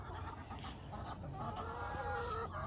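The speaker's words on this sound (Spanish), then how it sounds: "Aquí están las ponedoras, las gallinas." Laying hens cluck in a backyard pen at a home, a steady mix of overlapping clucks and low fowl calls at close range, with no speech over them.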